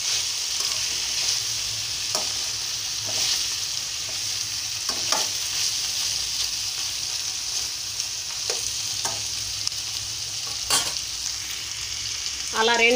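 Flat beans sizzle steadily in a pan while they are stir-fried, with a continuous hiss broken by occasional scraping and stirring clicks. The sound is close and there is no talking.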